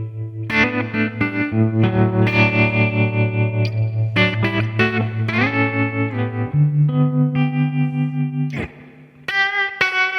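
Open blues electric guitar run through effects with distortion and chorus, notes and chords picked with shifting soft and hard attack, a sustained low drone under ringing phrases, loud and close with a brief dip near the end.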